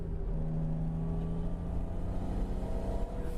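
A turbocharged project car making a quick pass down a road, heard from inside as a loud, steady engine drone with a low rumble and faint tonal whine, holding fairly constant throughout.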